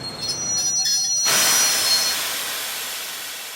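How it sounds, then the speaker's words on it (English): A train braking to a stop, with a broadband metallic wheel squeal and screech on the rails that swells suddenly after a quieter rumble and tonal whine, then holds loud and steady. "After 3 days, the train stops."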